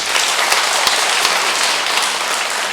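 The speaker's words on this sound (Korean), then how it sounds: "박수 부탁드리겠습니다." Steady, dense applause fills a Catholic Mass as the congregation claps together, loud and continuous throughout with no talking over it.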